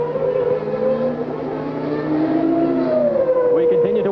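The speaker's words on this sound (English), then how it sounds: "This is the V8 engine versus the V12." Formula 1 race cars with V8 and V12 engines at the 1991 Mexican Grand Prix, a loud continuous high engine whine with shifting pitch as cars pass, heard with commentary over it.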